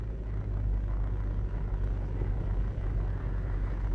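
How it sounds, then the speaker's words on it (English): Car driving on a road near Negril, Jamaica, heard from inside as a steady low engine and road rumble that holds an even level throughout, with no talk. "we're driving out of Negril now and heading towards Savlamar"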